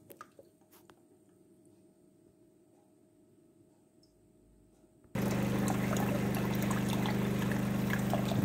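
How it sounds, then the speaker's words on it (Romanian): After several seconds of quiet mechanical hum, slightly dirty water abruptly starts pouring and splashing steadily from an automatic coffee machine during descaling, close and continuous until the end. "a început din nou să curgă apă"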